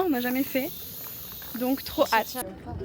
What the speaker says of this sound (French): Il y a les cigales qui chantent